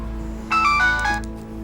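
An electronic telephone ringtone plays in short melodic bursts of bright tones, loud and close over a steady low hum, then breaks off.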